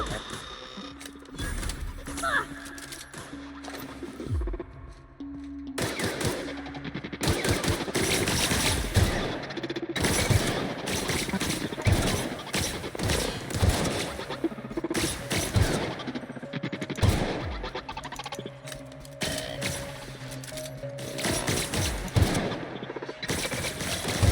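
Enemy gunfire in the video game The Outer Worlds, with dense bursts of rapid machine-gun shots and scattered single cracks rattling almost continuously, fairly loud, with game sounds and a voice briefly underneath.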